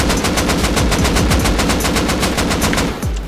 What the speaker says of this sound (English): I'm gonna shoot out his bag.